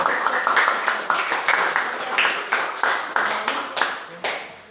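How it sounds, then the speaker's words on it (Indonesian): Classroom students clap for a physics group after its presentation, a small group's hands slapping in a roughly regular, fairly close rhythm with no talk over it. "Beri tepuk tangan yang meriah"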